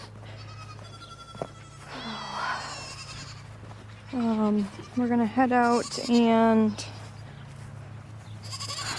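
Goats on a small farm bleat loudly in a rapid series of close, overlapping cries before morning milking, after a person speaks briefly.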